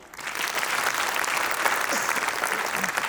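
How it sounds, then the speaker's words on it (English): Audience clapping fills a hall at a World Trauma Week medical program at AIIMS Rishikesh, a continuous wash of many hands for about three seconds. "I think let's clap for"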